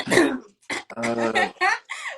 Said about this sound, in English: you gotta sit in the chair and clear your throat